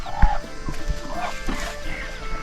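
A few chickens cluck faintly from a farm coop beside a pig pen at a remote hillside home, with brief, sparse calls over a quiet outdoor background.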